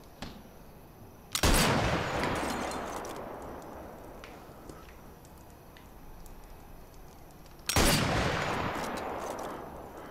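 Two loud, sharp sniper rifle shots in the Sniper Elite VR game, about six seconds apart, each followed by a long rolling echo that fades slowly against a quiet background.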